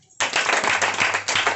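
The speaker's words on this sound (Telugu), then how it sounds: "చప్పట్లు పట్టండి." A church congregation bursts into loud, sustained clapping after a short quiet moment, with dense, continuous applause and a brief dip before it swells again.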